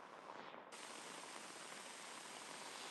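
Very heavy rain pours during a thunderstorm in Queens, New York, a loud, dense, constant hiss of downpour that swells suddenly just after the start and holds steady with no thunder or voices.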